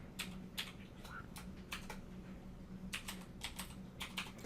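Password being typed on a computer keyboard while logging into an Ubuntu server, a quick run of crisp key clicks in two bursts over a steady low hum, with no talking.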